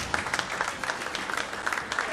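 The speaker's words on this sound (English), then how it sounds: "Look at them cheering her on." Audience at a Boston Pops concert applauding and cheering as a young guest conductor takes the stage, steady dense clapping with scattered voices throughout.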